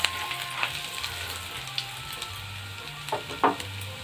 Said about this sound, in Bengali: এরপর দেব কুচি রাখা আদা, এটাও একটু ভালো করে ভেজে নেব।